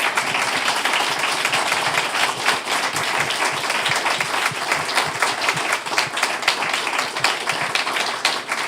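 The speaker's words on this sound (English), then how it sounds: "we're going to give you a round of applause" Sustained, dense applause from a room at a Board of Aldermen meeting honoring school board members, even and loud throughout with no talk on top.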